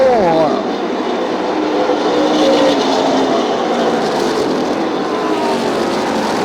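Race cars at a short-track event roar past the finish stripe, a loud, continuous engine drone with a passing pitch sweep at the start, a crowd and announcer blending into the steady din.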